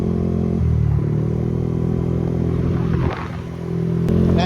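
Yamaha NMAX 208cc scooter engine riding through town streets, a steady close motor drone with shifting pitch, a brief dip in level near three seconds, then picking up again, with some rattling clatter.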